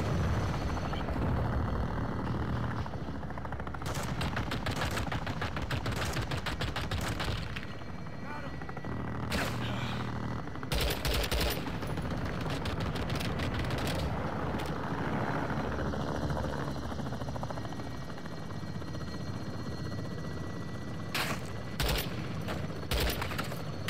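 Heavy gunfire in Modern Warfare II, long fusillades and sharp bursts over a helicopter's steady drone, loud and sustained, with radio voices talking throughout.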